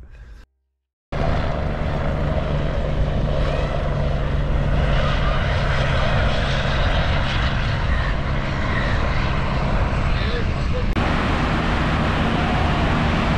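Helicopter engine running close by, a loud continuous roar with a steady low hum that starts abruptly after a brief silence and shifts slightly in tone near the end.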